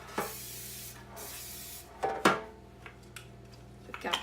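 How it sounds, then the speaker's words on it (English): Short hissing bursts of cooking spray coat a regular metal bread pan, two or three quick sprays close by, with light clinks of the pan in between. "So I'm just gonna go ahead and spray this"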